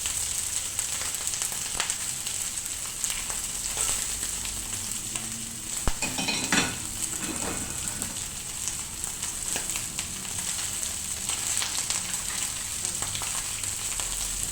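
Sardines fry in a dry, oil-free pan heated hard, giving a constant close sizzling hiss with occasional crackles and brief scraping stirs.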